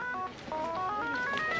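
A phone in a TV drama scene gives a steady electronic ringtone, a rising run of bright repeating tones that plays continuously through the short stretch, with a faint background hum underneath.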